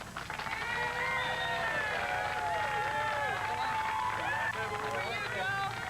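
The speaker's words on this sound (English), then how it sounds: "once we got Popo clear of the vehicle, they erupted into a loud cheer." A crowd at a vehicle accident rescue scene cheers loudly, a sustained roar of many voices with shouts and whoops rising over it, steady and full throughout.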